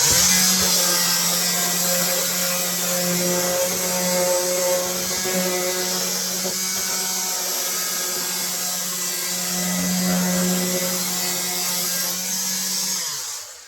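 Loud, continuous power tool whine cutting wood for a model railway layout, a steady motor drone with strong harmonic hum running unbroken for the whole stretch before winding down at the end.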